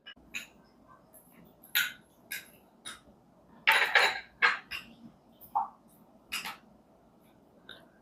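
Chopped jaggery is mixed into tamarind juice with a spoon, producing scattered clinks and scraping knocks against the bowl at an uneven pace, close by, with no voices.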